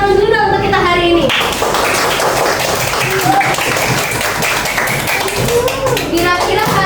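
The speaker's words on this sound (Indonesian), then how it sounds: "Oke, tepuk tangan dulu dong untuk kita hari ini." Hands clapping in a classroom during a third-grade lesson, a loud burst of quick overlapping claps from children that fades as a teacher's voice returns on top.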